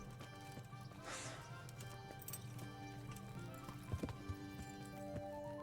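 Horse hooves clip-clopping on a ride in the medieval video game Kingdom Come: Deliverance, a quiet steady rhythmic beat under sustained game music with a few sharper knocks near the end.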